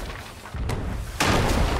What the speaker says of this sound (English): They're back on cannons.